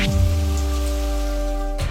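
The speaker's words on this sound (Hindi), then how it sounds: "अचानक बिन मौसम बारिश" A sudden, unseasonal downpour hisses down as a steady, dense wash of rain over a low sustained hum, swelling briefly at the very end.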